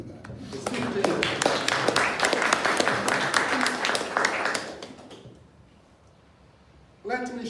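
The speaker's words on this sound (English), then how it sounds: "Let us give the URC a clap." Audience clapping at a church gathering, a burst of many hands applauding for several seconds that fades into quiet, then a voice starts speaking at the end.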